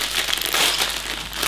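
Small plastic bags from a Lego set being crinkled and crushed, a brief dense rustle close by, with no talking.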